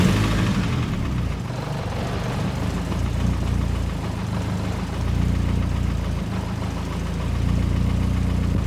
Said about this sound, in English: there's obviously a knocking noise